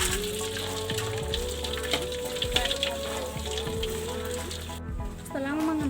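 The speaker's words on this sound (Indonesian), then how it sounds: "cara menggoreng kerupuk aci" Krupuk aci crackers deep frying in hot oil over medium heat, a steady crackling sizzle throughout with a background music bed.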